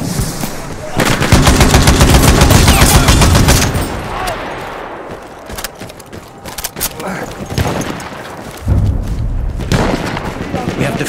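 Automatic machine gun fire in the World War I shooter Battlefield 1, Rush mode on Achi Baba, rattling in loud rapid bursts with thuds and booms, pausing and resuming near the end amid battle noise.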